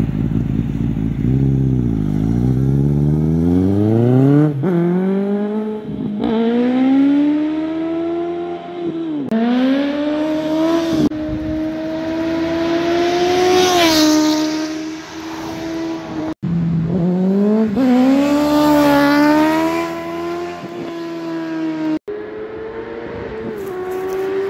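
A motorcycle revs repeatedly through rising gear changes, its engine note climbing and dropping several times as it rides toward and past close by, loud throughout and with no voices.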